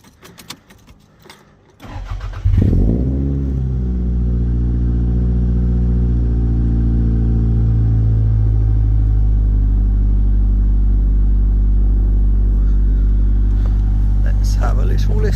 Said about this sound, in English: So let's give it a rev and see how she goes.